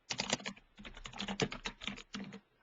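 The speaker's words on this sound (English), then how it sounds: "I'm just going to type in my project name for today." Typing on a computer keyboard, entering a project name in survey database software: a quick run of close, crisp key clicks in two bursts with a brief pause between, no talking.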